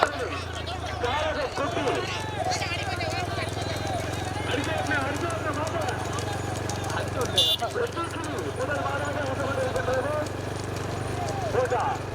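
Hoofbeats of racing bullocks in a small-bull class at a rural bullock-cart race in Vettanur, a steady clattering rhythm under loud crowd noise and shouting voices throughout.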